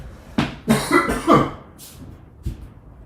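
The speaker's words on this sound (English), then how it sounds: "I'm going to go cough again" Several close coughs from a scratchy throat in quick succession, then a softer single cough a moment later, with quiet breathing between.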